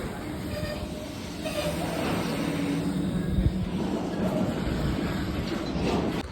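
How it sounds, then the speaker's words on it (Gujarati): A train rumbles steadily past at moderate distance, a continuous low roar of rolling cars with faint rail noise throughout. "આ ત્રીજી ટ્રેન છે અહીંની"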